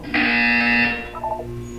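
A loud, harsh electronic buzzer drones for nearly a second, then cuts off, and a few softer tonal blips follow over a low background hum.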